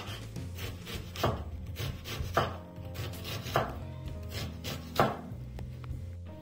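A knife chops onion into half moons on a wooden board, with several firm, evenly spaced cuts and a soft rubbing scrape between them, close and clear without talk.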